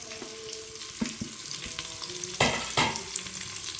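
Onions frying in spiced oil in a pan for Tamil Nadu style tomato rice, a steady low sizzle broken by a few sharp stirring scrapes and a louder burst of frying near the end, no talking.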